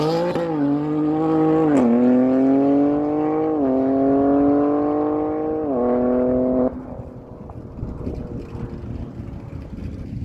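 2024 BMW M4 Competition on a solo bye run at a no-prep drag strip, its engine loud and close, rising through several sharp upshifts before cutting off and fading into wind noise.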